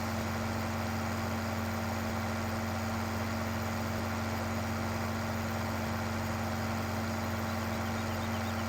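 Tractor engine in Farming Simulator 15 idling at a steady, continuous drone, loud and even throughout with a strong low hum and no speech.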